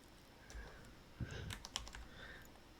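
Typing on a new compact 40-60% keyboard without arrow keys, a few soft scattered key clicks and taps, quiet and close with low background hum.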